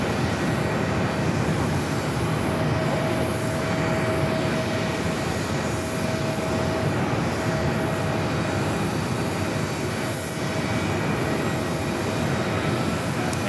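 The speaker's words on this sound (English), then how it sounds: "It's an Old America West A319 heading out." An old America West Airbus A319 jet airliner taxis out at Phoenix Sky Harbor airport with a steady, droning engine rumble and whine that holds at an even level throughout, with no voices.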